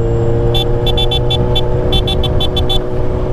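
A Kawasaki Ninja H2 motorcycle engine hums steadily up close while a rapid series of sharp clicking pops from the quick shifter punctuates it in quick bursts.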